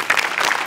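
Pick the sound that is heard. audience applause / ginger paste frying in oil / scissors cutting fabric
audience applause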